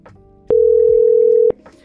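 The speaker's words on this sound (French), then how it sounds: "Et donc voilà, j'ai le téléphone qui sonne" A Snom D715 desk phone rings during office phone setup, giving one loud, steady electronic tone lasting about a second, framed by faint background sounds.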